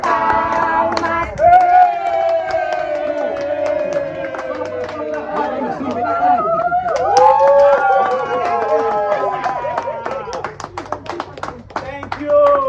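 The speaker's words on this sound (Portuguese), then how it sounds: "para o menino Jasso, uma salva de palmas" Guests applaud a young boy at a family birthday party in Mozambique, sustained clapping blended with a crowd singing and chattering around it.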